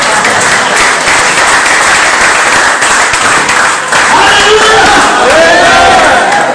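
A large crowd at an inspirational business gathering applauds loudly and continuously, a thick wash of clapping with some shouting and cheering mixed in, and a faint voice near the end.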